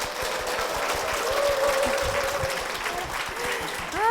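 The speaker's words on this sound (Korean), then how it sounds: "장서율 양 큰 박수로 모시겠습니다." A church congregation claps warmly to welcome a mother and her young daughter to the front, a steady dense applause throughout with some whoops and voices rising above it near the end.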